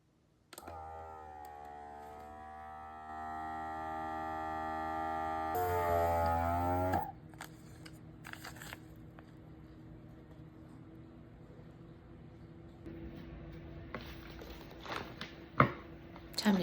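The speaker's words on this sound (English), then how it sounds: "I've already measured and cut my vacuum seal bag and now I'm going to seal it." A vacuum sealer runs on a bag for blueberries, a steady droning pump hum that rises and then cuts off, followed by quieter clicks and handling noises.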